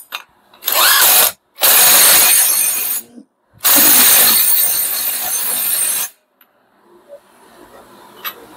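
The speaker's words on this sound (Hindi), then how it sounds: "होल्डर लगा लीजिए और 24 नंबर की गोटी के साथ में इसको अब टाइट करना है" A Royal Enfield Classic 350 clutch hub nut is tightened with a 24 mm socket and a hub holder, giving three loud, close bursts of harsh whirring from a power wrench, with quieter tool handling afterwards.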